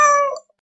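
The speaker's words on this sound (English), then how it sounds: "C is for cat." A single cat's meow, short and clear, close and alone, fading out quickly into silence.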